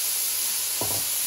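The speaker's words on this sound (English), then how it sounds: "I chose to put this first because I wanted to saute nice and soft" Ingredients sautéing in oil in a pan hiss steadily throughout, with one brief stir or shuffle of food partway through, and no talking over it.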